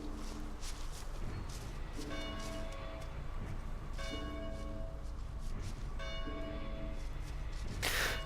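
Church bells ring in the video game DayZ, struck in slow repeated strokes roughly every two seconds, faint and distant over a low background hum.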